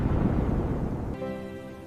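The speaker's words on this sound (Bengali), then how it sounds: "বুম বুম, মেঘ ডাকছে।" A deep roll of thunder rumbles loudly, then fades away into a quieter, lingering hum.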